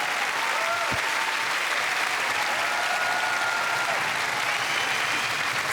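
Studio audience applause for a singer and her band on a Swiss TV music show, a steady dense roar of clapping that fills the whole stretch at an even, loud level.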